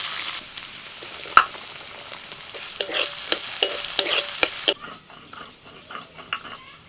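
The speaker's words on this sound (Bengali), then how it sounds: "কড়াইতে তেল দিয়ে দিয়েছি। প্রথমে দিচ্ছি পেঁয়াজ কুচি।" Chopped onions fry in oil in a kadai with a steady, bright sizzle, broken by sharp metal clicks and scrapes as a spatula stirs them, some strokes loud and close.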